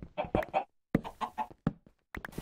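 Chickens in the farming video game Agrarian Skies give short, choppy clucks in quick clusters broken by brief pauses, close and fairly quiet.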